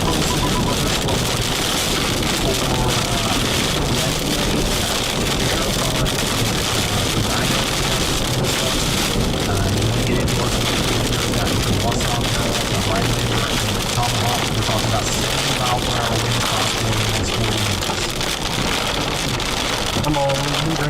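Heavy rain from a fast-moving severe storm pours steadily and loudly on a surface throughout, a dense continuous hiss with a low rumble underneath and some faint voices in the background.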